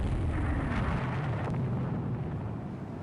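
Heavy rumbling blast and roar as torpedoes strike warships in the naval strategy game Rule the Waves 3, a sustained loud low boom with a crackling burst near the middle, fading slightly toward the end.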